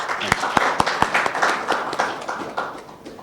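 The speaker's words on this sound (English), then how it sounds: "by way of clapping, help me thank Felix" An audience claps in thanks at a fellowship commencement ceremony, with sharp individual claps standing out over a steady patter that gradually thins toward the end.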